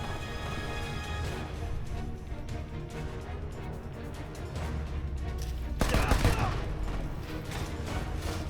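Gunfire from the video game Left Alive crackles in a steady dense burst, with a louder cluster of sharp shots near the end over a low rumbling background.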